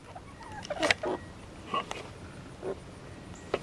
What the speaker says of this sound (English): There's all the little chickens.